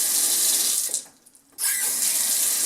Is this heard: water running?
yes